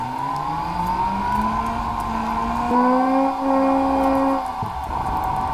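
A BMW M5 engine revs in a rising drone that climbs over several seconds, drops sharply at a gear change, then climbs again, loud and close, with no talk over it.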